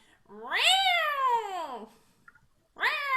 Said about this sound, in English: Let her meow.